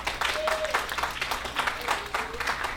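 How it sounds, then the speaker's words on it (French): An audience at an unplugged concert claps steadily, dense applause filling the space, with voices mixed in beneath it. "On peut l'applaudir."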